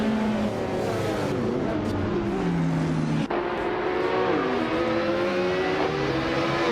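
Several race cars, led by a 2017 Cadillac DPi-V.R in the LMP2 class, roar off the line at Snetterton in a racing video game, engines droning and rising in pitch together, loud and continuous, with a brief gearshift dip midway.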